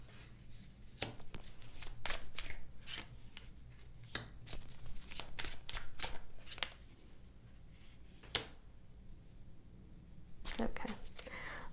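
Tarot cards are shuffled in bursts of crisp riffles and slaps, close and moderately loud, with quiet gaps between and a faint low hum beneath.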